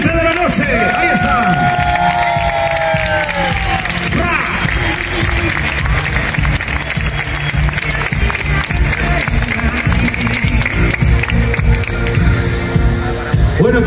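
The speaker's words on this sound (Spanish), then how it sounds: "os pido el aplauso más caliente de la noche" A crowd at a freestyle motocross show in Roquetas de Mar applauds and cheers steadily for a group of riders, a dense wash of clapping and hubbub with voices mixed in.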